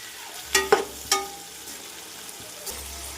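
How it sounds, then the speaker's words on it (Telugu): A spoon stirs tomatoes and herbs frying in a pan, giving a few distinct scrapes and clinks over a faint, soft sizzle. "టమాటాలు వేసుకున్నాక ఇలా కలుపుకోండి."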